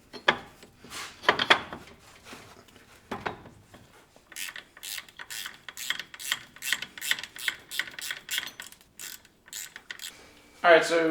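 A ratchet wrench bolts a drive shaft back into a Jeep LJ, with rapid clicking bursts in a quick start-stop rhythm up close, preceded by some handling clatter and ending on a louder mechanical whir.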